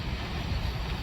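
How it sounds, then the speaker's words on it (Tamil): A low, steady rumble of a train runs in the background, a dull continuous roar with no distinct clacks, heard close to a phone's microphone. "பின்னாடி வந்து ட்ரெயின் நாய்ஸ் கேட்குது"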